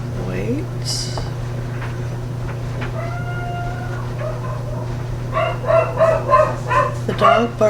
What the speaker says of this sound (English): The dog barking is my daughter's dog.